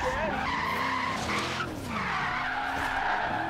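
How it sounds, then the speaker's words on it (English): Car tires skidding and squealing in Forza Horizon 3 during a drift lobby, a continuous loud screech with wavering pitch over engine roar, sustained throughout. "Ooh, spooky skids."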